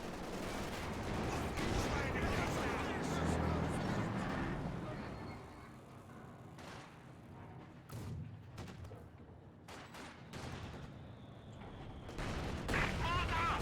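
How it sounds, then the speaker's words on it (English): Mortar fire in Company of Heroes 2 amid a wider battle: scattered thuds and sharp blasts, some distant and some nearer, spread over a low, fairly quiet rumble. "that mortar shot was absolutely brilliant"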